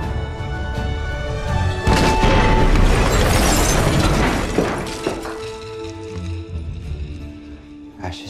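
A loud explosion in a TV drama scene bursts out and rumbles for a couple of seconds with crackling debris, then fades into lower rumbling while people talk.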